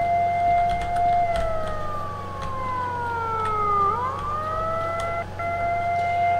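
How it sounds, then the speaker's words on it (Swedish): A wailing siren in the video game S.T.A.L.K.E.R. Shadow of Chernobyl (2007) sweeps up and down in long, overlapping tones. It sounds steady and fairly loud over a low ambient hum, with no talking. "Om jag bara kunde få slut på den där sirenen."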